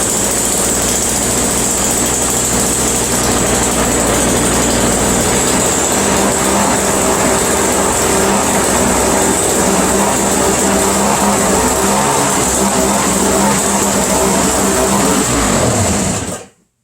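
Engine of a Toro CCR Powerlite snowblower running steadily, a loud continuous buzzing drone with no pauses that cuts off abruptly at the end.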